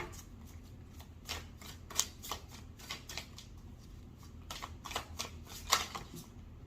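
Tarot cards shuffled by hand, a soft, fairly quiet run of riffling and flicking bursts with brief louder snaps, heard alone.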